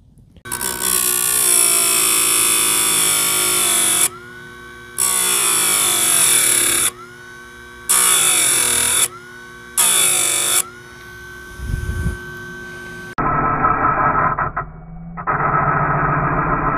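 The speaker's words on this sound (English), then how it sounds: "So I'll get to work here and sharpen up a couple of chains of blades." Power sharpener grinding chainsaw chains for 16-inch and 20-inch saws, a loud harsh whine running in repeated bursts of a few seconds each with short pauses between, then a lower, duller grinding tone toward the end.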